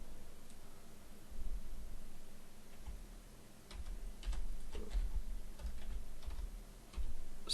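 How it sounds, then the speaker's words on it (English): Computer keyboard typing in a text tool, with steady close key clicks in short bursts over a constant background hiss, ending in a few separate taps. "I'm going to come into my text tool, and I'm going to type in here"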